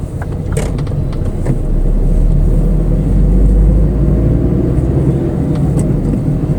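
A Chevrolet Aveo engine hums and rumbles steadily from inside the car while driving, with a few faint clicks and knocks over the road noise.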